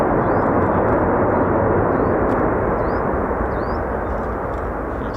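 A C-17 military transport aircraft at an air force base, a loud continuous engine roar that stays close and powerful, with faint high chirps above it and no talking.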